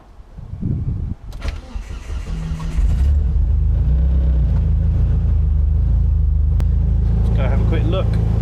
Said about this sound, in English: So we'll try that and we'll give it a quick go.